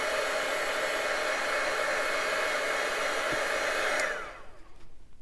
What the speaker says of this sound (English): I think I'll just hit it with my heat gun real fast so that it doesn't smear.